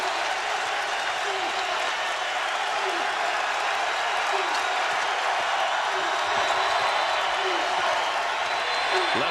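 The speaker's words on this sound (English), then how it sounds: "Tar Heel fans cheer the biggest lead for North Carolina." Tar Heel basketball fans in a packed arena during the 2008 NCAA East Regional Final, North Carolina against Louisville, keep up a steady roar of cheering and applause throughout, with a commentator talking over it.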